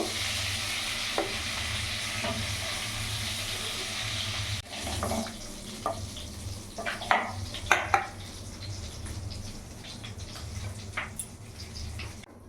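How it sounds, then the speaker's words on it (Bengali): Giant freshwater prawns frying in oil in a pan for a malai curry: a steady, close sizzle with scraping and clinking stirring sounds throughout, and no talking. "চিংড়ি মাছগুলো আমি একটু লাল লাল করে ভেজে নেব"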